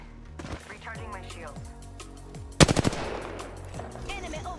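R99 submachine gun fired in a video game, a sharp, rapid burst of close automatic shots in the middle of the moment, set against busy game sounds and player chatter.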